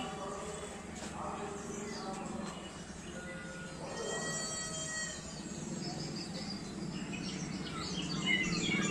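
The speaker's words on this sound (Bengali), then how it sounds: "এবং পাখিরই আবহ শব্দ শোনা যাচ্ছে" Recorded bird chirps and calls play as ambient sound inside a decorated Durga Puja pavilion, faint and continuous under a steady crowd murmur, while someone narrates over them.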